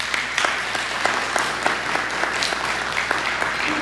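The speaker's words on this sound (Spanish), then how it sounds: "Un fuerte aplauso para ellos." A church congregation applauds in a sustained round of clapping, with dense overlapping claps and a few sharper individual hits standing out, loud and close throughout.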